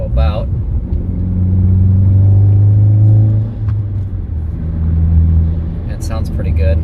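A Saab 9-5 driving along with low oil pressure, its engine a loud, steady low rumble that rises and eases with the throttle, heard from inside the car.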